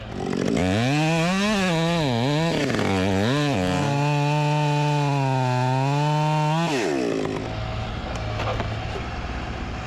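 A chainsaw bucks firewood logs, its engine rising and dipping in pitch as the chain bogs into the wood, then holding a steady loud whine before the cut ends and it drops to a quieter idle.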